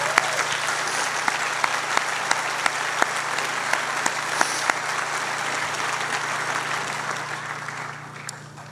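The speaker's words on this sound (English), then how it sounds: "I think that deserves a round of applause" Sustained audience applause fills a high school graduation ceremony hall in East Hampton, a steady dense wash of clapping with a few sharper claps standing out, holding even and then tapering off near the end.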